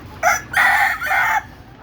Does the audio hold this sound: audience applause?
no